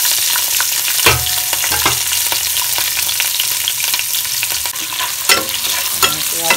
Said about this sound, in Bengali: এখন আমি এর মধ্যে পেঁয়াজ আর রসুন যেগুলো আমি কেটে রেখেছিলাম সেগুলো ভেজে নেব।